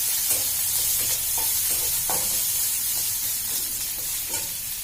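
Steady sizzling of garlic and onion frying in a hot pan, with faint stirring clicks and scrapes throughout.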